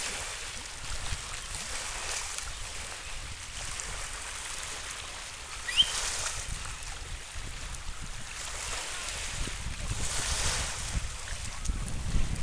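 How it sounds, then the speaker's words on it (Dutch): Water sloshes and laps against a boat near a harbour dike, a soft, continuous washing under steady wind noise, fairly close, with no talking. "En het water klotst."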